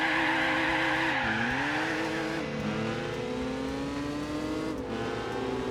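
Simulated car drifting in Gran Turismo 4 Re-Tuned, with a continuous wailing tire squeal that bends in pitch over a steady engine drone, loud and sustained throughout.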